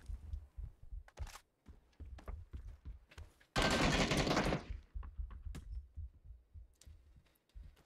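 Video-game gunfire in a cheater-spotting match: a long, loud burst of automatic fire dominates the middle, surrounded by scattered sharper single shots and thuds, close and punchy.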